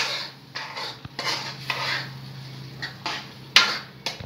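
Paneer is stirred into palak spinach in a pan: close, repeated scraping and clinking strokes of a utensil against metal come in an irregular rhythm, with one sharper clank near the end.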